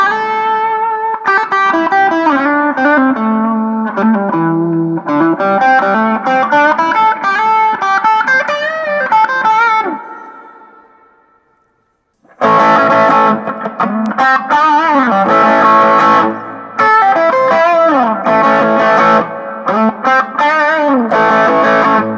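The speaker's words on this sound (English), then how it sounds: "Let's add in some reverb." Distorted electric guitar phrases through a tiny Flatsons FBA 10 amp's reverb effect, ringing out with a washy, sustained tail that blurs the notes together, then a brief gap before heavier chords resume.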